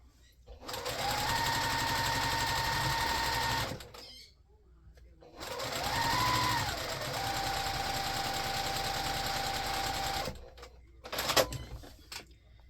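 Sewing machine stitching fabric strips onto a quilt block, running in two long bursts of steady whirring with a short pause between and brief clicks at the end; soft talk sits faintly underneath.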